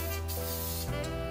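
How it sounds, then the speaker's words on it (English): Cooking spray hisses steadily from a can into a heated pan as salmon is being cooked for breakfast, one continuous close spray lasting the whole moment with no talk over it. "I'm just gonna spray it a little bit with a cooking spray"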